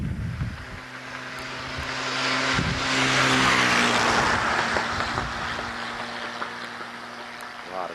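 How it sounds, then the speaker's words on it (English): A vehicle passes on a road above the Cumberland River south of Burkesville, its engine hum swelling and fading over several seconds, with wind buffeting the microphone and no speech. "A lot of traffic out here today."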